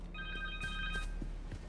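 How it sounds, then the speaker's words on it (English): A cell phone in the game Marvel's Spider-Man 2 rings with a short, bright electronic trill lasting about a second, heard close over a low ambient hum and faint footsteps. "Connor's cell phone."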